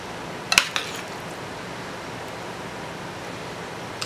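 A couple of sharp metallic clinks of a spoon against a pot while macaroni and cheese is served, brief and close, followed by quiet background hiss.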